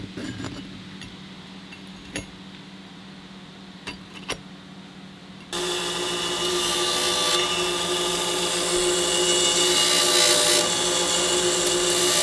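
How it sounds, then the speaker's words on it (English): A power tool deburrs a custom dual brake caliper bracket. The first half is quiet with a few faint taps, then a loud, steady whirring grind starts and holds to the end, close by and without talk. "It looks like it needs a little bit of deburring"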